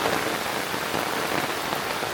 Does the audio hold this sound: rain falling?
yes